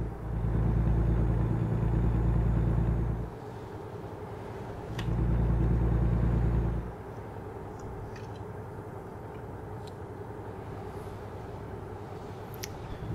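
Truck engine in the American Truck Simulator driving game, a steady low drone that rises in two louder bursts with acceleration and drops back to a quieter running hum, no talking.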